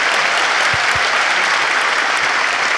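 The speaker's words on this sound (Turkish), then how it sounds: "Koca alkış Alex'e." Dense, steady applause from a television studio audience, loud and sustained without a break, greeting a guest named Alex.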